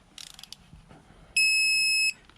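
A single sustained electronic beep from a Harbor Freight 3/8-inch digital torque wrench signalling too much torque, loud and steady, lasting under a second, preceded by faint clicks and handling noise.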